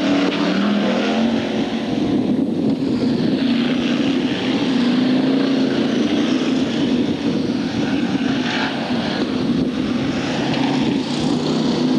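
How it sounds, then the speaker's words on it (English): Formula 1 stock cars racing at Hartlepool, a loud, continuous engine roar from several cars filling the whole stretch, with a steady droning pitch that rises and dips slightly as they circulate. "Clark still tracking the Mason car."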